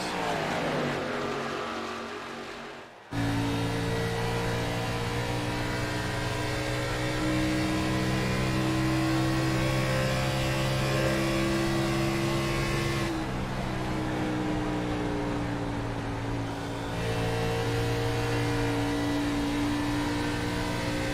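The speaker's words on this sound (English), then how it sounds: "You can hear the throttle input there on Ryan Kelly's car, just kind of trying to" A race car engine drones loudly at high revs, its pitch shifting as the throttle is eased and reapplied, a steady mechanical roar throughout.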